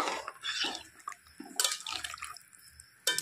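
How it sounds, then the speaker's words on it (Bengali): Broth being poured over soybean curry in a pan, a close, uneven liquid splash and trickle in short bursts, with gentle sizzling between pours. "তো এখন ঝোল দিয়ে দিচ্ছি।"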